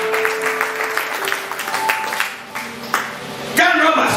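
A congregation applauds during a French-language church service, the clapping heard in short bursts under a preacher's voice, swelling louder near the end.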